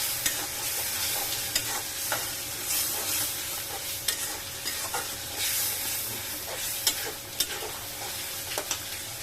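Ground cumin, coriander and garam masala frying and being stirred in a pan, a continuous sizzle with repeated scraping taps of the spoon at an even pace, close and moderately loud.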